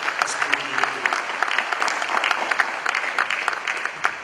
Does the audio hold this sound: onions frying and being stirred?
no